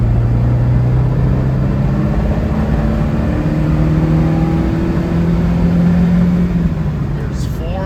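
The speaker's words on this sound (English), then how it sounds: "we're gonna give it the beans, as they say, and we'll really get it up to speed" A 1973 Alfa Romeo Spider accelerates hard through the gears, its engine note climbing steadily in a loud, continuous rising whine and rumble from inside the car, with a voice talking over it.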